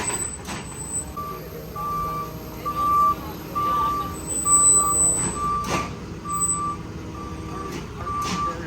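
A tow truck arrives with a steady series of evenly spaced reversing beeps over a diesel engine rumble, heard outdoors after rain. Occasional brief clunks break through the continuous low traffic-like drone.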